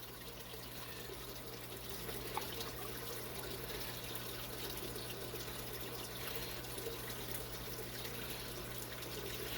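Steady watery sucking and trickling, a continuous low gurgle of algae-laden water drawn off the surface by a gravel vacuum siphon hose, with no talking.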